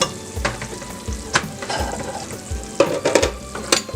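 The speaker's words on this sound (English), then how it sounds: "Now we add our minced ground garlic. Stir it in, make sure it's nice and stirred in." Minced garlic is stirred into browned tomato paste in a hot pan, giving a low sizzle broken by repeated scraping strokes of a spoon at an uneven rhythm, close up with no voices.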